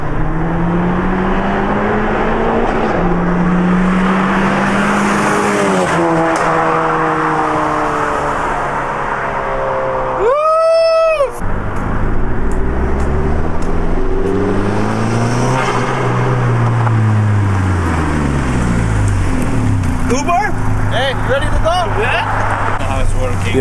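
A Nissan 370Z drift build roars past in a flyby, engine note rising and falling as it approaches and recedes, with a loud, sustained exhaust drone throughout and a brief whine partway through.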